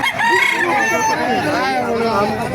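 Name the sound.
rooster crowing at a chicken market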